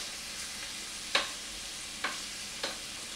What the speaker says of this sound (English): I'm going to start turning the shrimp now.